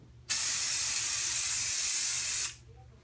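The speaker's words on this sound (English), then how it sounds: "I'm going to spray it on there." A single continuous burst of aerosol coating sprayed onto polycro film, a loud close hiss that starts abruptly, holds steady for about two seconds, then cuts off, with a quiet hum before and after.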